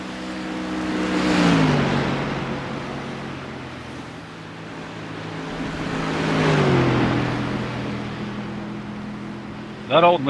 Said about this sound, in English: That old McLaren GT3 really be spitting flames, huh?